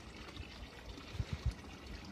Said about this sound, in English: And voila, lovely clean water coming out.